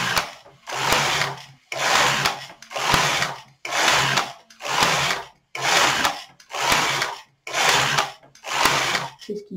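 A Singer knitting machine knits rib stitch, its carriage swept back and forth in nine regular, even passes of whirring, clacking noise, each about a second long with short gaps between, close and steady with no voices.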